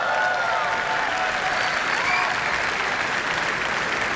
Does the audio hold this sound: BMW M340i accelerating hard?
no